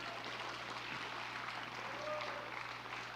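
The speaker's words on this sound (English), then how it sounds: "You can applause that." Steady applause from a crowd, fairly quiet and continuous throughout, with a low hum underneath.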